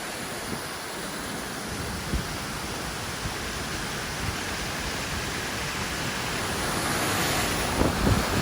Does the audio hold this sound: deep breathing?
no